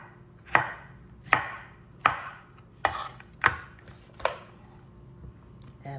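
A knife chops through fruit on a cutting board for a fruit salad, six sharp separate thuds at an uneven pace, close and clear with no voice.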